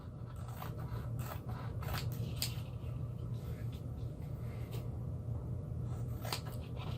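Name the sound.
trimming sticky edges off a masking tape sheet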